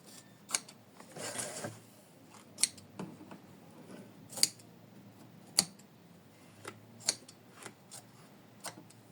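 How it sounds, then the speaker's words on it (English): Small scissors snip around an embroidered in-the-hoop mermaid bookmark near its tassel, a series of about ten crisp, close, isolated cuts spaced irregularly, with light fabric rustling between. "We trim it carefully not to damage the tassel"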